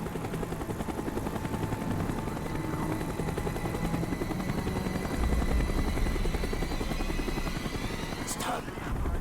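A helicopter flies nearby, its rotor thrumming in a continuous, fairly loud drone that swells slightly midway and persists for the whole stretch.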